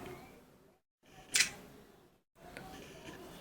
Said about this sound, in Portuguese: Vou colocar com uma velocidade de obturador alta de 1/4 e vamos tirar uma foto.